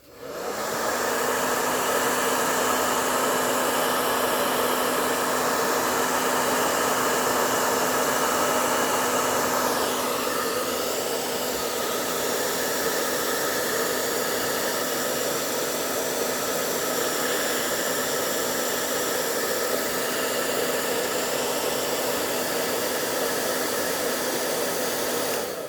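A heat gun or hair dryer blows steadily and loudly on a cracked plastic figure, a constant whooshing hiss with a fixed motor hum that holds without a break throughout.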